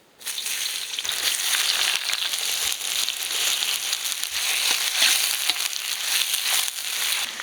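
Chopped onions sizzle and fry in hot cooking oil for a village-style pork gravy, a steady dense crackling hiss that starts abruptly and runs loud and close throughout, with no talking.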